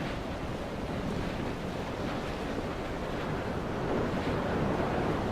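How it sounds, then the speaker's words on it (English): Steady, roaring wind blows continuously in the game Dear Esther, a dense rushing noise that swells slightly louder toward the end, with no voices. "It's getting really windy up here."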